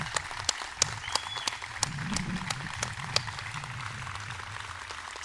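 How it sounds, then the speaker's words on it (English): A crowd at a school graduation claps for the graduating class, with scattered distinct sharp claps over a soft wash of applause and low murmuring voices, heard at a moderate distance. "let's have a round of applause for the DHS class of 2025"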